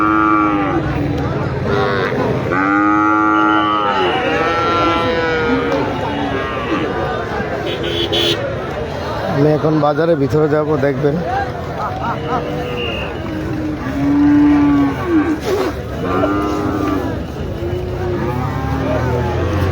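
Cattle moo repeatedly at a busy live cow market, loud drawn-out calls near and far over a crowded background, while someone talks throughout and an engine hums now and then.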